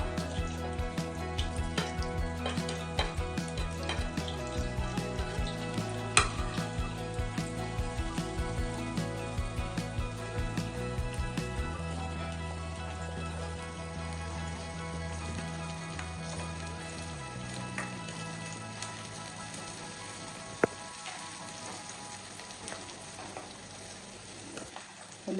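Chopped onions frying in a pan with cinnamon for goat head curry, a faint crackling sizzle under a steady background hum and tonal drone, with a couple of sharp clicks and no talk.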